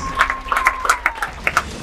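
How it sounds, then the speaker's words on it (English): Scattered hand clapping from a church congregation, uneven individual claps over a sustained tone, fairly close and moderately loud. "Clap your hands beautifully for Jesus Christ"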